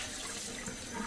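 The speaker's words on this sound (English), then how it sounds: "we need to rinse that bowl out" Running water rinses a bowl in a sink, a steady broadband splashing rush that stays even and close for the whole moment, with no voices over it.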